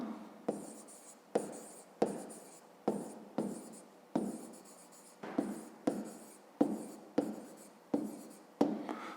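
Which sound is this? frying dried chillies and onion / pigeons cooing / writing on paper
writing on paper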